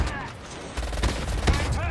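Rapid gunfire bursts from the Call of Duty Mobile video game, dense overlapping shots rattling loudly throughout, close and continuous with a few heavier hits.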